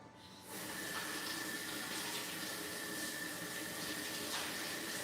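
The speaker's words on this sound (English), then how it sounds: "I'm gonna go ahead and give these a quick rinse off here." Carrots being rinsed under a kitchen tap during stir-fry prep: the faucet turns on and then runs in a steady, even gush of water, close up and alone.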